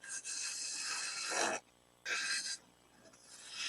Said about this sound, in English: use larger tools like this 1/2-inch spindle gouge to remove a lot of stock more quickly